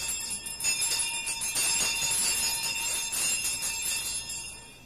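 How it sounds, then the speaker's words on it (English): Many bells ringing together in a dense, continuous metallic clangor, fairly loud and sustained throughout, with no voices. "Every bell in the house was ringing."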